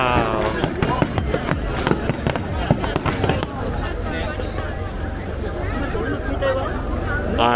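Summer fireworks over the Sumida River in Adachi city, a dense series of thudding bursts and crackles for the first few seconds, then a rumbling wash under crowd murmur and nearby voices talking.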